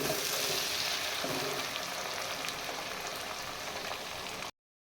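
Tomatoes and green chillies sizzle in a hot pan, a steady close frying hiss that holds evenly before stopping abruptly.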